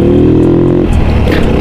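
A motorcycle rumbles loudly close by on a rough, bumpy road on a trip toward Shimla, engine droning steadily with clattering jolts over the uneven surface.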